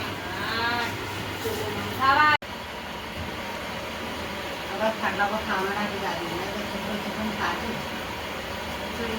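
A cow lets out a loud, drawn-out moo, followed by a fainter lowing call, over outdoor traffic rumble.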